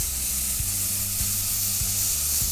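White wine hitting risotto rice in a hot pan gives a loud, steady, close sizzle with a constant hissing wash and faint stirring underneath, and no voices.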